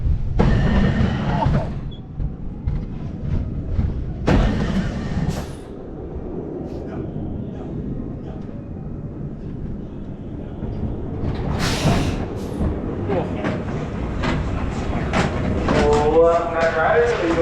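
The Runaway Mine Train roller coaster at Six Flags Great Adventure in Jackson, New Jersey rumbles along its track, heard from the front seat with a steady clattering roar, wind bursts and rising and falling surges, while riders talk and cheer over it.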